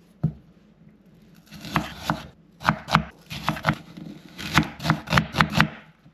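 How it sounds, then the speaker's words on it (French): Onions being chopped with a knife on a board, heard up close as a string of firm thuds that speeds into quick bursts, with short pauses between them and no talking. "On s'attaque aux oignons."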